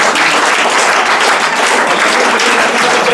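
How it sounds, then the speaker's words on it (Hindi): Applause for a child at a Diwali prize-giving event: a dense, loud, steady crowd clapping that carries on evenly without a break. "सोनी के लिए ताली"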